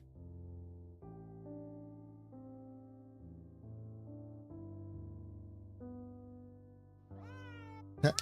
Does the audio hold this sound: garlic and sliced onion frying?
no